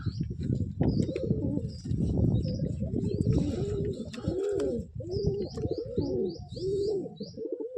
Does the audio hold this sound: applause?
no